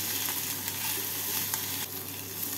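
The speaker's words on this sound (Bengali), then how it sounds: "ভেজে নেব" Chicken keema with grated ginger frying in a pan, a steady close sizzle running the whole time with a few faint scrapes of stirring.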